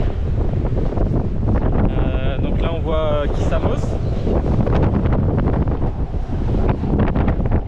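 Heavy wind rumbles and buffets the microphone continuously while a person talks over it.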